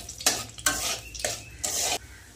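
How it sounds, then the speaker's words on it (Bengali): Five-spice, bay leaf and dried chili fry in oil in a pan, crackling and sizzling in short bursts as a spoon stirs and scrapes four times, close and fairly loud. "সবজিটা ভাজার জন্য এখানে 5 ফোড়ন দিয়ে দিয়েছি তেলের মধ্যে।"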